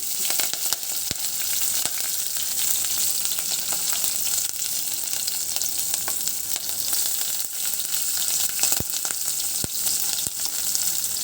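Ginger garlic paste with curry leaves and green chilies frying in a pan, a steady close sizzle with scattered sharp pops and crackles throughout, no voices.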